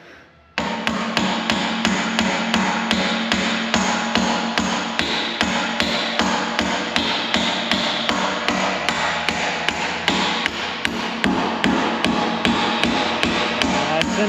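Steady, loud hammering on metal while repairing the blade of a Dresser TD-25G crawler dozer, with rapid, evenly spaced ringing blows that continue without a break throughout.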